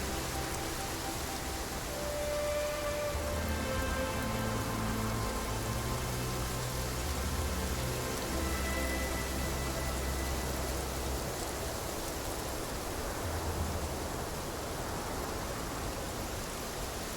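Steady, dense rain hiss from the video game Infinity Nikki throughout, even and unbroken, with faint tonal background sounds layered underneath.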